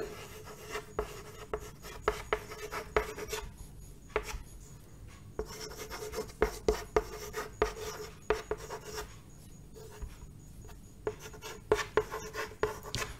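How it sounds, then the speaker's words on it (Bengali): Pen or pencil writing a word by hand on paper, producing close, quiet scratchy strokes in short irregular bursts with brief pauses between them. "যদি আমি সঞ্জনা লিখি এখানে"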